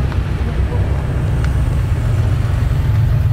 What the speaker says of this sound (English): Porsche making its appearance.